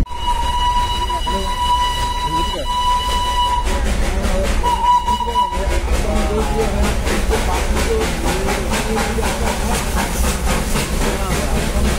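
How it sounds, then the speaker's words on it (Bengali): The Darjeeling toy train on its mountain line gives loud, continuous steam hiss. A sustained whistle-like tone sounds early, then rapid rhythmic chuffing beats run steadily to the end. "টয় ট্রেনটা তোমরা দেখতে পেলে টয় ট্রেন"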